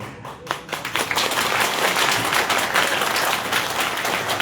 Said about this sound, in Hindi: आज भी आपके तालियों में वो गर्माहट नहीं है।